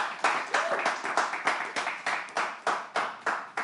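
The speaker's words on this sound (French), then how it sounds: "On applaudit Nazir, s'il vous plaît." Audience applause at a live event, rhythmic unison clapping with about fourteen evenly spaced claps, fairly close and strong.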